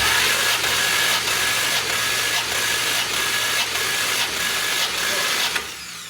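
Twin turbo LS V8 with its spark plugs out, cranked over by the starter during a compression test: a loud, even, rhythmic whirring chug, about eight beats in six seconds, stopping at the end.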